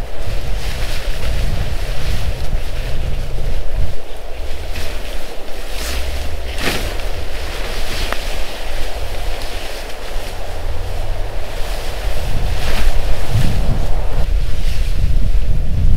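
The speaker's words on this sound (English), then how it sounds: "because the wind's blasting from that way" Strong wind blasts steadily across an outdoor backpacking camp, a loud continuous roar with low rumbling gusts that swell louder near the end, heard alone with no talking.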